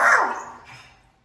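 A voice imitates a dog, giving a single short, loud bark-like yelp that quickly fades out.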